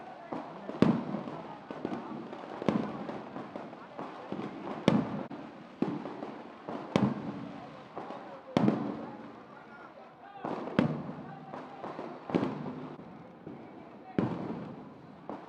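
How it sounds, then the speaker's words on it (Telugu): Firecrackers burst at an outdoor political celebration on a ground, sharp bangs popping repeatedly at irregular intervals of one to two seconds over a continuous crowd murmur. "టపాసులు కాల్చే మిత్రులారా"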